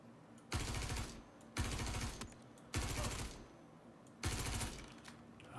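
Unsilenced gun in Star Citizen firing four sustained automatic bursts separated by short pauses, loud and near, with no talking.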